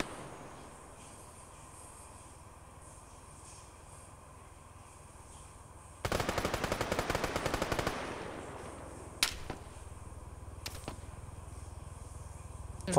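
Automatic gunfire rattles in a dense, loud burst for about two seconds in a King of the Hill war video game, followed by a couple of sharp single shots amid steady background ambience.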